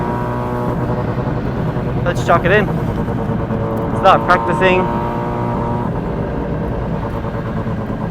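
Engine of a D1 drift car at Mobara Twin Circuit, holding a steady loud drone with rising rev sweeps near the two- and four-second marks, under continuous close talking.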